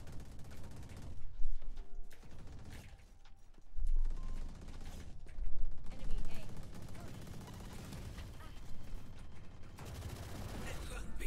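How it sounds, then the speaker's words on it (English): Video game gunfire comes in repeated bursts of rapid shots, separated by quieter gaps and mixed with other busy game sounds. "It's a little hard to hear you over the gunfire."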